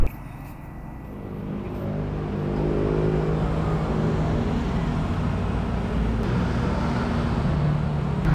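Vehicle engine with a broken, wrecked exhaust pipe at a muffler and headers shop, a continuous loud rumbling drone that swells after a few seconds and holds steady.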